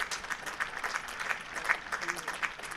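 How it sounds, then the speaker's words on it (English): A round of applause rolls around a cricket ground at a county championship match between Durham and Northamptonshire, steady and fairly distant, with a commentator's voice over the clapping. "You can hear a really loud round of applause going around the ground."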